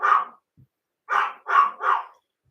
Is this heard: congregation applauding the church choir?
no